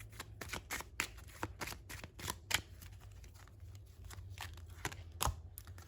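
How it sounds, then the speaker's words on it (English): Tarot cards are shuffled and pulled in quick, crisp riffling bursts, a dozen or so sharp papery flicks and slides spread irregularly across a quiet room, close and fairly soft, with no one talking. "Let me pull a couple more cards."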